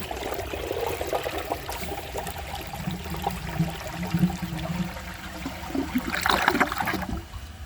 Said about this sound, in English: So let's give this a flush and see how it does on tests.